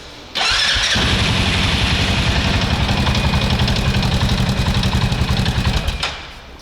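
Terracross ATV engine cranks and catches, then runs loudly and steadily for about five seconds before cutting off; no speech.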